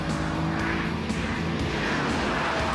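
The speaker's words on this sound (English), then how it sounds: "Under the hood of the Corvette Z6 rumbles the most powerfully naturally aspirated" A Corvette Z06 with its naturally aspirated V8 rumbles steadily and loudly at close range, a dense continuous engine drone with no voices.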